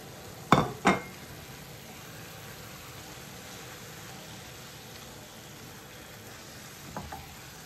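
Leafy greens with onion and green chilies cook in a pan with a low, faint, steady sizzle. A couple of utensil clinks sound near the start, and softer ones come near the end.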